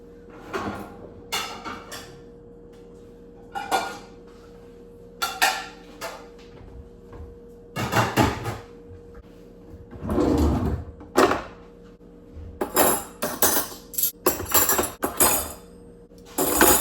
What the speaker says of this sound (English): I feel like I always have dishes to do.